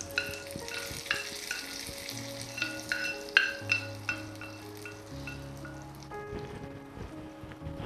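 Hot tempering stirred into chutney in a pan with the stove off, a soft sizzle with light clinking stir strokes, close and moderately quiet, fading toward the end.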